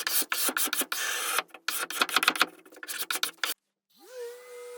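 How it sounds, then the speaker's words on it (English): Hand sanding of bookmatched walnut veneer on a dresser drawer, done along the grain, gives rhythmic rasping strokes in quick bursts with brief pauses, then stops before a faint tonal sound. "I'm sanding in the direction of the grain"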